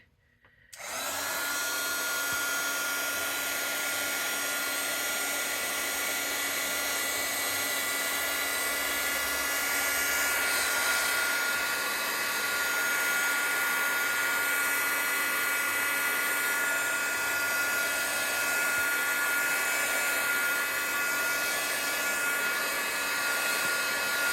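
Hair dryer blowing on a watercolor painting done with Spectrum Noir Aqua Tints, a steady loud whir with a high whine that starts abruptly and runs unbroken without talk.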